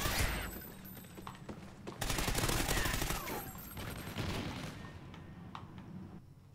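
Light machine gun fire rattles out in Call of Duty Ghosts, with rapid sustained bursts and sharp single cracks over a busy multiplayer match, loud and close, with no talk over it.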